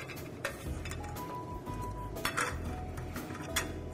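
Scallop shells set down on a bed of kosher salt in a kitchen, giving several light clinks and taps spaced over a few seconds, close and quiet.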